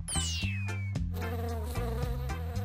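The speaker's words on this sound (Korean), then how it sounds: "음식 위에 앉은 파리 한 마리" A housefly buzzing over food, its whine sweeping close by against a steady musical background, with no talk.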